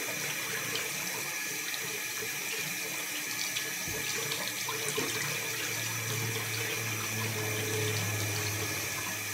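Steady, loud stream of running water from a tap soaking dreadlocks during hair washing, a continuous splashing rush with a low hum that joins partway through.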